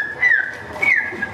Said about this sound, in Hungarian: Ne füttyögjél, ezt mondom